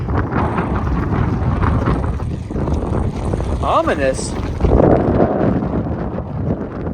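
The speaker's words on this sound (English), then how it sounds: "It's windy for sure today." Constant strong wind roars across the microphone while canoeing, with a few brief spoken words partway through.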